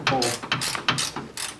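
A ratchet wrench clicks in quick bursts while loosening bolts on a Subaru WRX STi, four or five close, crisp runs of ratcheting with brief pauses between strokes.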